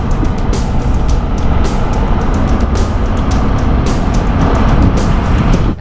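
Vehicle driving on a desert backcountry track in Nevada's Black Rock Desert, a loud continuous engine and tyre rumble with rattling from the rough surface throughout.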